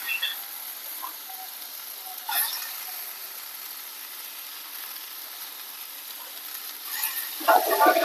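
Cabbage goes into a pan of potatoes frying with a catla fish head, giving a steady hiss of sizzling oil broken by a couple of brief clatters and scrapes, close and without talk.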